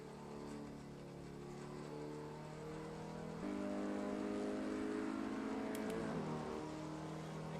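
An Italian car in the racing game Assetto Corsa at Brands Hatch accelerates through the gears, its engine note climbing steadily, dropping at each upshift and rising again, a continuous moderate whine with no voices.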